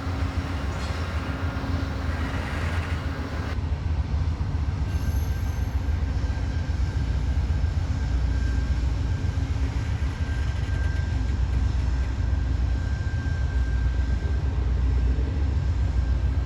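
An Amtrak Heartland Flyer passenger train of three Superliner coaches, pushed by a powered DPU, rolls past with a loud, steady rumble and rail clatter, and a faint wheel squeal runs through it. No one speaks.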